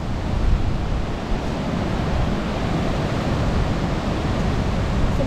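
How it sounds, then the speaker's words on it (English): Roaring waterfalls in rainy season at the 4000 Islands, Laos: a constant, loud, dense rush of water with no breaks, close by and alone. "some absolutely crazy waterfalls."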